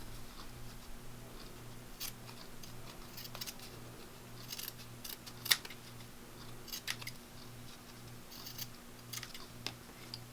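Small scissors trimming fabric collage pieces, a series of faint, crisp snips scattered irregularly over a quiet room with a low steady hum, no speech.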